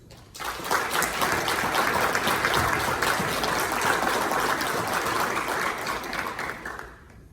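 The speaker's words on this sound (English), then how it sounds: "please join me in another round of applause for everyone that helped put this together" A crowd at a military change of responsibility ceremony at Fort Hamilton gives a long, loud round of applause, thick steady clapping that swells quickly and fades out near the end.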